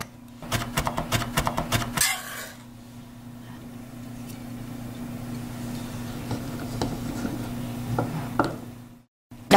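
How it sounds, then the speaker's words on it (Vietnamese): Lemongrass is pounded and then minced with a knife for a hotpot dish: a quick burst of sharp, close knocks opens, then scattered lighter chops follow over a steady low kitchen hum. "Phần còn lại thì mình đập dập và băm nhuyễn ra ha."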